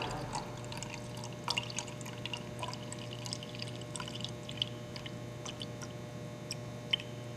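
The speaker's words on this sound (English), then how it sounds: "I'm actually pouring till I'm at the 25 milliliter mark." A liquid Sterilex solution is poured into a laboratory flask, a faint, quiet trickle with small splashes and drips scattered over a low steady background hum.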